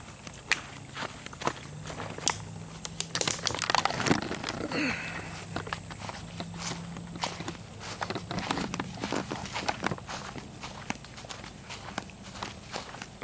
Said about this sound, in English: This is my flippers, my flip-flops, my feet flipping.